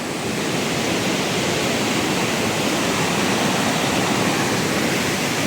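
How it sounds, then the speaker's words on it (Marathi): Waterfall at Mahabaleshwar in the rainy season gives a loud, constant broadband roar of rushing water throughout, close and unvarying, with no talk. "आता इथून पण धबधबा येते"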